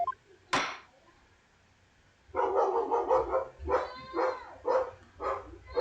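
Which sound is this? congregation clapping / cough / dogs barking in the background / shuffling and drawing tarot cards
dogs barking in the background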